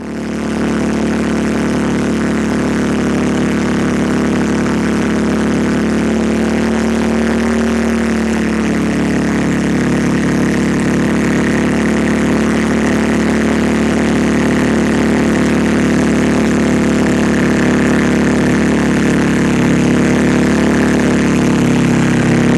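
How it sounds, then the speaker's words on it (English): A bench-seat four-wheeler hauling maple sap up and down a hill, its engine running in a loud, close, steady drone, with a brief shift in pitch partway through as it revs, continuous throughout with no talking. "bench seat four-wheelers are used to get up the hill and carry the sap down"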